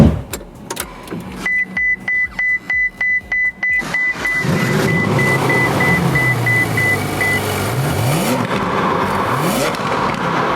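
Ferrari 458 Speciale Aperta V8 accelerating from rest. The car stays close and loud: a few short blips, then a sustained rising engine roar with gear-change dips, alone with no talk.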